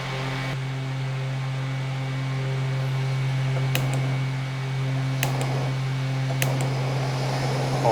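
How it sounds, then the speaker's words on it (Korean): A mini electric fan on its fourth, strongest setting blows a loud, steady whoosh with a constant motor hum, broken by a few faint clicks. "4단이에요. 상당히 센 바람입니다. 이 정도면은 미니 선풍기지만"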